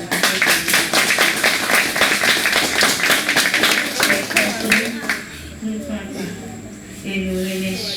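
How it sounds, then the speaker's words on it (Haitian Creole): A church congregation claps together in a dense, loud burst of applause that fades after about five seconds, leaving murmuring voices and room sound. "va applaudir"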